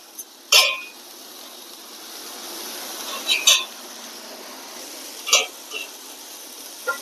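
Cauliflower poriyal is flipped and fried in a pan, a low frying hiss broken by three or four short scraping clatters of the spatula, with a voice in the background.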